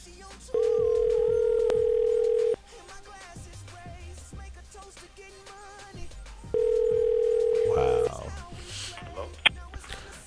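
A telephone ringback tone sounds while a call is being placed. Two long, steady beeps of about two seconds each are separated by a pause, with faint background chatter between them.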